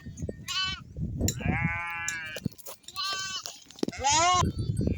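Sheep bleat repeatedly in a forest grazing area near their pen, several wavering calls overlapping from close by, with someone talking underneath.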